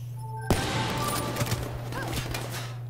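Gunfire in a first-person shooter video game starts abruptly as rapid bursts of shots rattle over a steady electronic hum, fairly loud and close, with no speech.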